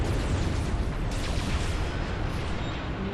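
In the strategy game Ashes of the Singularity, an Artemis unit fires amid dense, continuous explosions that form a loud, rumbling barrage with no pauses.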